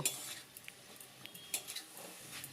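Kalai greens with green chilli and eggplant are stirred in a pan, giving quiet scattered scrapes and light metallic clinks of a utensil over a faint low sizzle.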